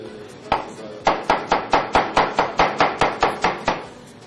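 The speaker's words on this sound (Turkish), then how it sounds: "Görüyorsunuz ince ince doğrandı her şey." Rapid, even knife chops finely dicing a red pepper on a cutting board, a dozen or so crisp strikes in a steady rhythm, close and clear with no talking.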